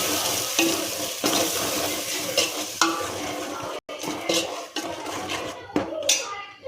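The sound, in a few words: onions and masala frying in a pan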